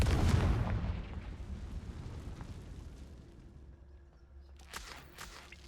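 The Confringo blasting spell explodes in Hogwarts Legacy, with a deep, booming burst at the start that rumbles and decays over several seconds, followed by scattered small crackles.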